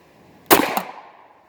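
A Ruger 5.7 pistol fires a single sharp shot outdoors, with a quick metallic ring from a steel target just after, loud and brief with a short decaying tail.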